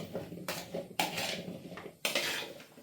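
A spoon stirring cubed potatoes with salt and olive oil in a bowl, three sharp close clinks against the bowl followed by wet scraping swirls, with no talk.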